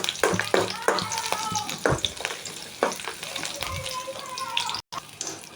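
Garlic frying in a pan while being stirred, a steady sizzle broken by scraping spoon strokes, with the clatter of the pan close by; a brief dropout interrupts it near the end.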